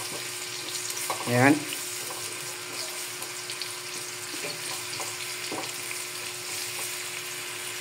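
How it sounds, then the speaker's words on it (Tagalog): Onions sautéing gently in a pan over low heat, a steady soft sizzle held throughout with a faint clink near the start and a voice speaking briefly over it. "Medyo luto-lutuin muna natin ang ating sibuyas mga payaba."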